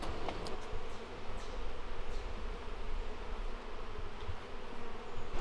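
Honey bees at an open hive during a hive split swarm and buzz continuously, a loud, close, wavering drone with individual bees passing nearby.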